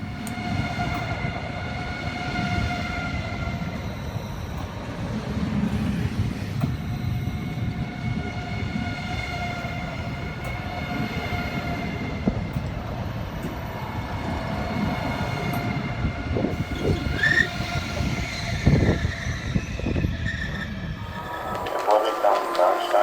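ICE 3 train 407 006 pulling into Wiesbaden station, a rising rumble of wheels with a tonal drive whine, growing louder, and a brief squeal near the end; voices can be heard faintly on the platform.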